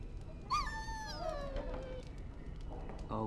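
A dog whimpering in the video game Dragon Age: Origins, a few high, wavering whines that slide downward, then a short final whine, heard close over quiet background noise.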